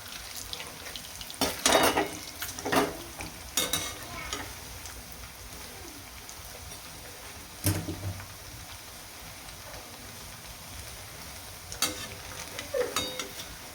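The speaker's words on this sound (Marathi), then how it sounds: "सो बघू शकता एकदम मस्त उडीद वडे आहेत ते छान तळले" Urad dal medu vada deep frying in hot oil over high flame, a soft continuous sizzle punctuated by several sharp utensil clinks and scrapes as the fritters are turned.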